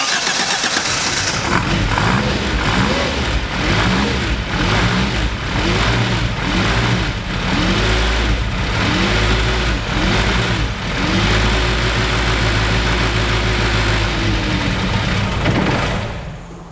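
Austin 8 car engine cranking and running in a workshop, loud and close, with a rhythmic repeating churn of the starter and engine pulses through most of the stretch before it cuts off near the end, no talking.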